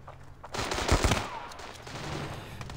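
A short burst of rapid automatic gunfire from the video game Standoff 2 rattles out close and loud, then fades into a lingering background hum.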